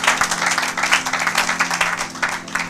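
A church congregation applauding together, a dense, rhythmic wash of many hands clapping, fairly loud and steady for a few seconds, with a faint sustained tone beneath.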